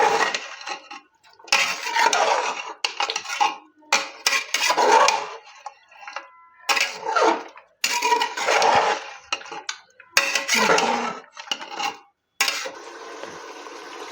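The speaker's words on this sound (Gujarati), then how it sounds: "અંદર આ ચાપ એડ કરશું ને એને આપણે એકદમ સરસ મિક્સ કરી દઈશું" Mutton chops being mixed into masala in a pan, bursts of wet scraping and clattering spoon-on-pan strokes separated by short pauses, close and fairly loud.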